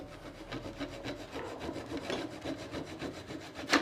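A small hand saw cuts diagonally through excess wood on a marquetry dovetail joint, making a close, steady back-and-forth rasping rhythm of many quick strokes with no speech.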